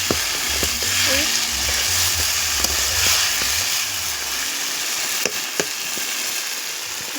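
Potatoes and peas frying in a pan on a stove give off a steady, close sizzle, with a few faint clinks of stirring and no talk.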